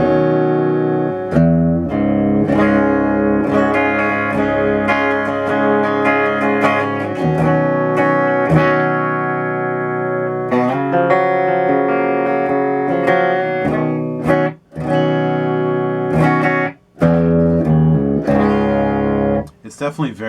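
Clean electric guitar chords through an Orange Crush Pro CR120 head with no reverb, strummed loudly and ringing out, with a few brief pauses between phrases.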